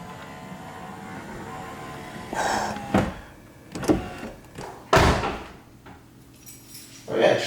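A BMW E36 power window runs after a regulator repair in several short motor bursts, each a brief whirring sweep with clunks as the glass stops, separated by quieter pauses.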